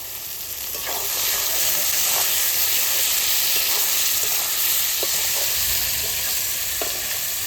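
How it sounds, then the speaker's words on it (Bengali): Goat fat frying and sizzling in a pan of spiced masala, a loud steady hiss close by with a few scrapes as it is stirred, no talking. "এবার খাসির চর্বিটা দিয়ে দেবো"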